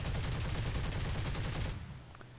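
A BF109 K4 fighter's machine guns fire in War Thunder, one loud, rapid continuous burst lasting under two seconds that cuts off abruptly, leaving only faint engine noise behind.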